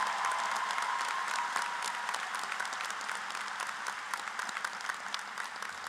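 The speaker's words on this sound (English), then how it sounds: "Let's have a round of applause for the 2024 Bright Flight recipients" A large crowd at a high school graduation ceremony claps for award recipients, a dense, steady wash of applause that slowly eases in volume over several seconds, heard from a distance in a big hall.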